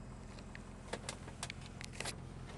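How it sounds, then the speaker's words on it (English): Power windows on a 2004 Ford F250 Lariat crew cab run with a faint motor whine while scattered light clicks and rattles sound over a steady low cab hum. "All the power windows work correctly."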